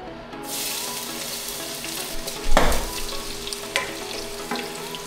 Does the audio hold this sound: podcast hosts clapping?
no